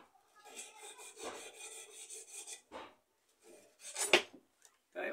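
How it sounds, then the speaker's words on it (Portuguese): A rod for an ionic detector being sanded by hand, with several close rasping strokes, a pause, then shorter and louder scrapes. "Tem que lixar mais um pouquinho"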